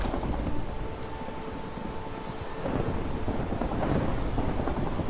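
Rumbling thunder in a Minecraft storm after lightning strikes a creeper, a low continuous roll with rain-like hiss that swells louder midway and holds to the end.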